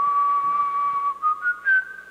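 A person whistles close by: a long, steady pure tone, then a few short rising notes with breathy onsets, heard alone.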